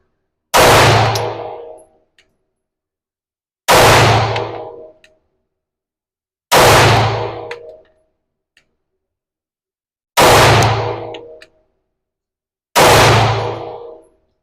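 Five Canik MC9 Prime pistol shots fired at a 15-yard target, each a loud sharp report with a ringing decay, spaced about three seconds apart at an indoor range.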